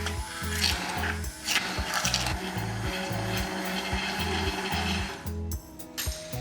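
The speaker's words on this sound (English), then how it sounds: "Give it a good blitz." A blender blitzing a parmesan and ricotta white sauce, a loud steady whirring motor with a pulsing low rhythm that runs for several seconds and then cuts off abruptly near the end.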